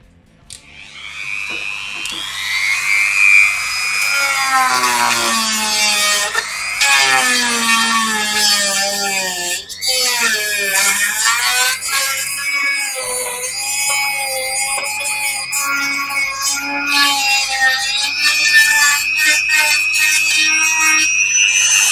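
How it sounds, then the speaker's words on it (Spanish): A Dremel rotary tool grinds and cuts boat deck wood with a loud, continuous high whine whose pitch rises and falls as the bit loads and frees, with a few brief dips in the motor speed. "métele la Dremel, que es más seria para estas cosas"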